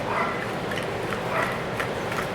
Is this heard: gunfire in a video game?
no